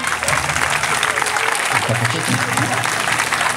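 A crowd at a hypnosis evening claps steadily and loudly throughout, with a voice talking over the applause.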